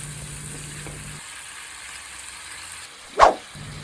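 Vegetables and soy sauce stir-frying in a pan give a steady, moderate sizzle with a low hum underneath, broken near the end by one short, sharp clatter.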